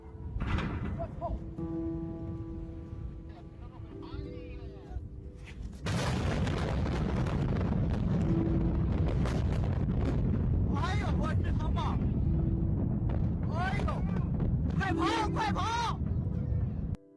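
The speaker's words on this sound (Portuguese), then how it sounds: "A explosão que chocou o mundo." Massive chemical warehouse explosion at the port of Tianjin, China, in 2015: a loud, sustained roar and rumble with booming blasts and wind buffeting, broad and overwhelming for most of the span, with a sudden intensification partway through.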